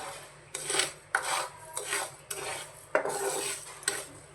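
Metal spoon scraping and stirring thickening sugar syrup in a pan, a string of short rasping strokes in rough rhythm, close and fairly quiet, with no voices.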